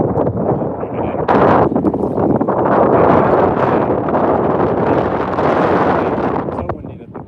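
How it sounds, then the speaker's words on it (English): Strong wind roars and buffets the microphone continuously, a dense rushing blast with gusts rising and falling throughout. "It's so windy that the wind will just blow it"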